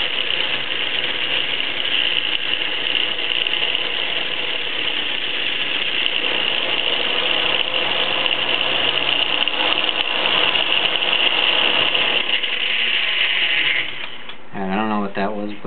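A homemade DIY anti-gravity machine spins with a continuous mechanical whir and buzzing rattle for most of the stretch, then drops away near the end into a brief warbling, wavering tone.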